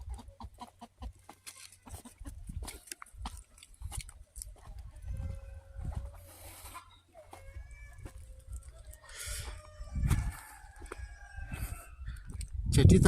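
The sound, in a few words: chickens clucking and rooster crowing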